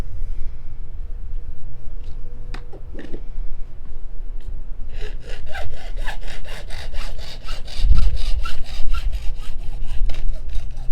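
A regular hacksaw with a replaceable blade cuts plastic pipe in steady, rhythmic close strokes over the second half, after a low rumbling background with a few knocks and handling sounds.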